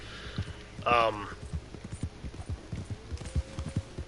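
Horse hooves clip-clopping in Red Dead Redemption 2, a steady run of close hoofbeats at a walking pace, with a short voice-like sound and faint humming under them.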